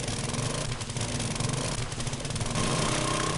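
Mechanical drilling in a PS4 video game: a loud, steady engine-like grinding roar with a rough, rattling texture, continuous throughout and swelling slightly near the end, with no talk over it.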